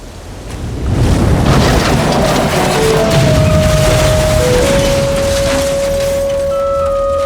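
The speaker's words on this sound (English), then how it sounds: "Let's just get out of this storm." A stormy night at sea on a misfit-toy island, with a steady loud roar of wind and surf and a deep rumble like thunder, while a faint sustained whistle-like tone drifts in over the last few seconds.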